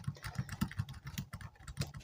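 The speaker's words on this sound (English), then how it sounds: "as she's typing" Steady typing on a computer keyboard, quick soft key taps in an uneven rhythm, close and fairly quiet, with a faint low hum beneath.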